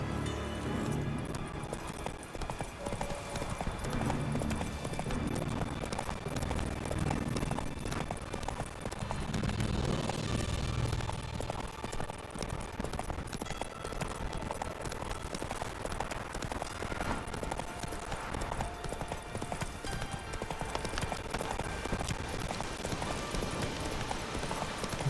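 Roach the horse trotting in The Witcher 3 video game, a continuous rhythmic clip-clop of hooves at steady moderate volume throughout.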